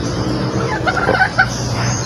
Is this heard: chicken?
yes